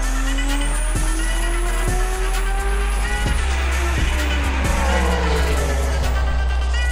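A car engine idling with a Haltech Elite ECU's rotational idle (ghost cam) function, giving a loud, steady, lumpy idle with rhythmic sharp pops roughly every second throughout.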